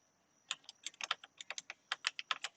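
Typing on a Mac computer keyboard, entering a terminal command to create a Flutter project: a quick, irregular run of crisp key clicks after a brief pause, close and clear with no talk.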